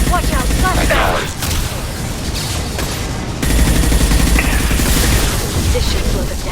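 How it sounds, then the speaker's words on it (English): Combat noise in the video game Mass Effect 2 as a flashbang goes off, a loud, dense wash of gunfire and blasts with a surge partway through, with brief voice lines mixed in. "Watch out, flashbang!"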